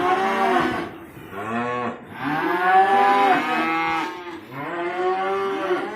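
Repeated loud, drawn-out moos from upset cattle, several bellowing calls overlapping in slow succession, close by with no talking.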